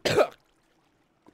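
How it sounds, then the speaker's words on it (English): A single sudden cough at close range during a Minecraft modded playthrough, a short harsh burst followed by near silence and a faint small sound at the end. "that was a very sudden cough"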